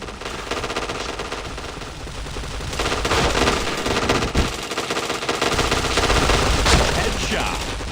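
Dense automatic gunfire in a shooting video game, bursts running nearly nonstop and growing louder partway through, a few sharper single cracks standing out, no voices over it.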